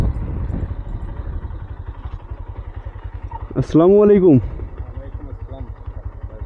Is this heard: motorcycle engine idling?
yes